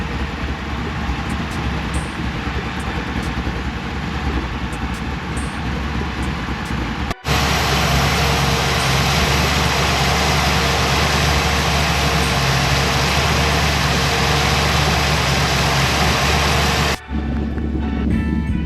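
A big block engine in a Chevrolet C10 longbed pickup idles steadily, a loud continuous rumble with a broad hiss that holds for the whole stretch, briefly cut once and ending in a quieter tail.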